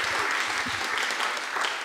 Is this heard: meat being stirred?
no